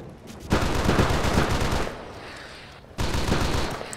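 Sustained automatic gunfire in the military shooter ARMA 2 during an escape mission in Chernarus, loud continuous rattling bursts that cut off briefly and resume, with no talk.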